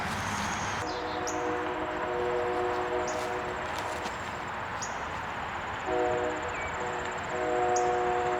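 Passing train on a disc golf course, a steady rumble with sustained horn-like tones sounding in two stretches, fairly loud and continuous throughout.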